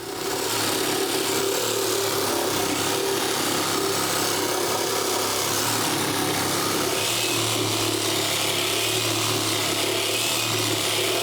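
A power saw blade runs continuously along a wooden wall stud, cutting it out while framing a door on a knee wall; a loud, steady whine and grinding drone persists throughout, no speech.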